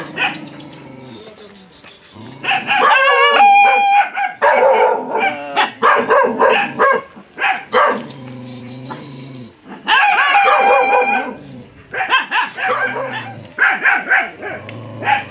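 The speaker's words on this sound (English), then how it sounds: "the dog is in chains." A dog held on a chain in the Philippines barks and yips in repeated loud bursts close by, with short pauses between volleys.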